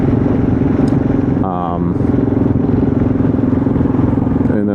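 A Kawasaki KLR650 single-cylinder motorcycle thrums loud and close while cruising a country road on a sunny day, its steady engine pulse joined by wind rush, with a rider talking over it and a brief shift midway.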